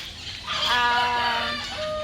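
Rhode Island Red chickens clucking and calling up close on a farm, a loud, drawn-out squawk rising over a steady barnyard background.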